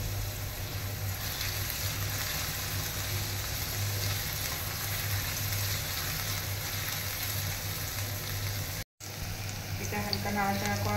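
Cashews frying in a pan for paneer fried rice give a steady, dense sizzle that runs unbroken for most of the clip, with a brief dropout near the end before the sizzle resumes under a low steady hum.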